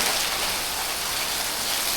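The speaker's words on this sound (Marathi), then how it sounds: "पाऊस बघा किती जोरात आलाय" Heavy rain pours down with overflowing gutters nearby, making a dense, constant roar of water at steady loudness throughout, with no speech.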